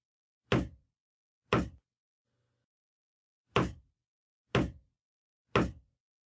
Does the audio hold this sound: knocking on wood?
yes